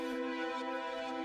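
Silent's Pad Hall Hope synth pad, unfiltered and bright, rings as a steady sustained chord with airy upper shimmer, played alone for a deep tech house track.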